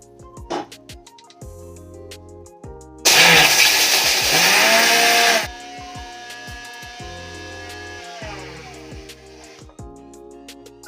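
A kitchen mixer grinder pulverizes edible gum into fine powder, a loud, steady whirring burst of about two and a half seconds that starts and stops abruptly, with quieter background sounds before and after.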